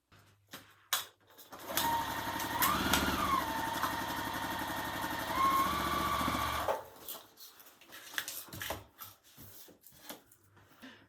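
A sewing machine stitches curved quilt pieces together, running steadily for about five seconds with a fast mechanical whir, then stops, leaving quiet handling noises.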